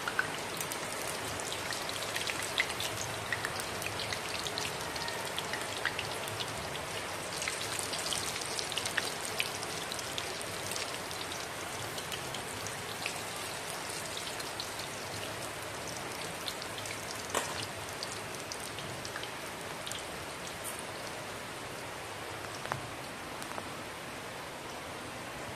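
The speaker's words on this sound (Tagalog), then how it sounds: "Ayan, may ulan guys." Steady rain falls continuously, a dense hiss of drops pattering on surfaces nearby, with no voices.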